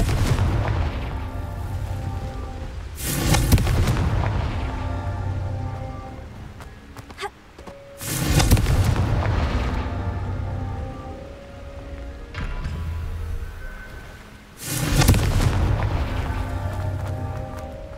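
Confringo blasting spells fired in Hogwarts Legacy: three heavy, booming explosions spaced several seconds apart, each a loud crackling blast that fades into a steady rumbling game ambience.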